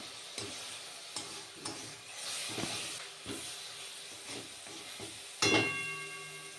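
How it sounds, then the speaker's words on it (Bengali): Fenugreek greens frying in hot oil in a wok, a soft continuous sizzle broken by repeated scraping stirs and a louder hiss near the end, close by with no talking. "কড়াতে তেল গরম করতে দিয়েছি। এবার শাকগুলো প্রায় ভাজা ভাজা হয়ে এসছে।"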